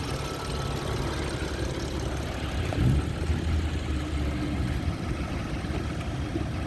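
A 2013 BMW 335 idles with a steady, low rumbling hum and a faint rhythmic throb. A slightly louder burst comes around the middle, and no one speaks over it.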